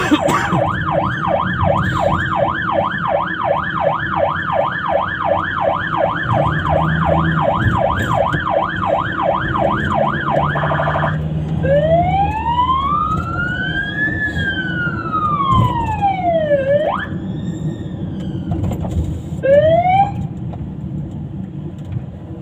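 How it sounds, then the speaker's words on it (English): Ambulance sirens wail during a 999 blue light convoy run, loud and close, first a fast repeating yelp and then slower rising and falling wails with sharp switches between tones, over road noise. "Oh, their sirens are so shit."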